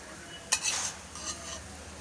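A ragi and urad flour dosa sizzles softly on a hot pan as the batter is spread, with a brief scrape near the start and a steady low crackle throughout, no voices.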